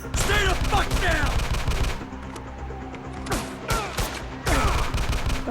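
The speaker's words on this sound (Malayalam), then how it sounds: "നമ്മൾ ഓരോരുത്തരായിട്ട് വെടിവെക്കുകയാണ്" Rapid bursts of gunfire in GTA V crack out in quick volleys, pausing briefly before another flurry of shots, loud and close.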